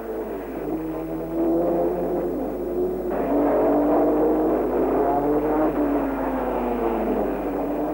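Racing cars of the 1958 Belgian Grand Prix, led by Brooks ahead of Collins, Hawthorn and Lewis-Evans, pass with a steady loud engine roar that swells and shifts pitch as they go by, over constant background hum.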